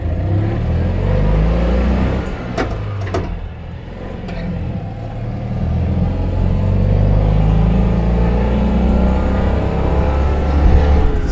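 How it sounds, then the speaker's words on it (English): A British-built 1955 Citroën 2CV with its 425cc engine pulls away in first gear on a road in Tasmania. A loud, steady, strained engine drone runs throughout with a few brief clicks, close by and without talk. "So that 425cc engine is working quite hard."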